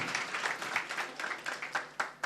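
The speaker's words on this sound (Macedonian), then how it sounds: "сега е времето за аплауз" Audience members at a public debate clap in loose, uneven bursts. The claps are fairly close and moderately loud, and each one stands out as a distinct strike.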